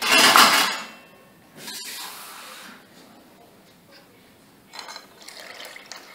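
Water poured into a cooking mixture for maalpova batter, an initial splashy pour followed by softer intermittent trickles and faint stirring sounds, close by with no talking.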